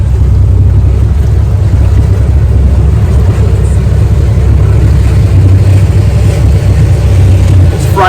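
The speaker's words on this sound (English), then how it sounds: "Just let these boats go by." Motorboats pass on busy weekend water, a loud, continuous low engine drone that swells and holds across the whole stretch, with wind and water wash mixed in.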